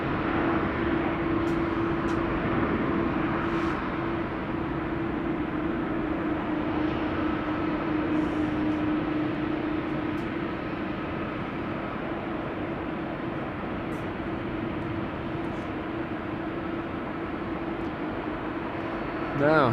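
An aircraft taxis at Amsterdam Schiphol Airport, heard as a steady, distant engine drone with a constant low hum that holds evenly throughout.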